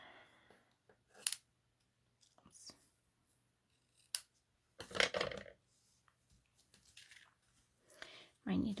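Scissors trimming paper for a handmade card, a few quiet, scattered snips and paper rustles spread through a near-silent stretch, with a loud close rustle at the end.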